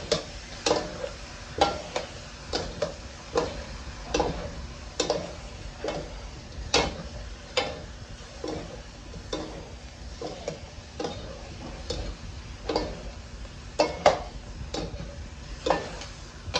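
Chicken heads sauté in a pan for adobo, a soft sizzle under repeated sharp clacks of a spatula stirring against the pan in an irregular rhythm, close by and with no talk.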